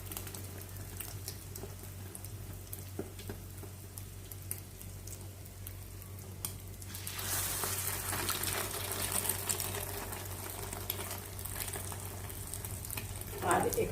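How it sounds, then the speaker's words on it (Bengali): Bread slices for French toast frying in a pan, a steady soft sizzle that swells louder partway through, with light clatter and a voice speaking quietly over it. "এখানে পাউরুটিগুলো ভেজে নিচ্ছি"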